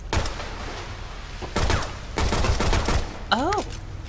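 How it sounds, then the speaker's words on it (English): Gunfire in the Shadow Complex video game, coming in several sharp bursts of rapid shots between quieter gaps, with a short electronic sweep near the end. "If I press the button, I shoot faster."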